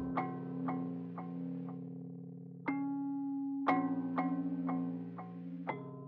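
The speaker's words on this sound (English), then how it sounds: "I also pitched it down a whole octave, so that's why it's so dark and muddy." A melody time stretched and pitched down a full octave in FL Studio, sounding dark and muddy: slow, sustained low tones punctuated by several plucked note attacks, quiet and murky throughout.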